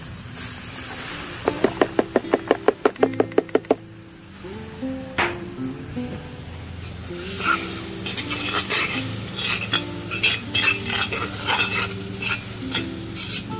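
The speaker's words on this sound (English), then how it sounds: "we're gonna go ahead and add the onions and the celery and garlic in there" Onions, celery and garlic cook in a beef stew pot, giving a steady sizzle with stirring scrapes after a few brief ringing tones at the start, close up and without speech.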